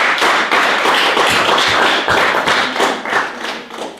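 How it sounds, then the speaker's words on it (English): A church congregation at a homegroup service claps its hands together in loud, rhythmic bursts, the steady beat of many palms continuing for several seconds before easing off at the end. "Can we clap our hands to God for that"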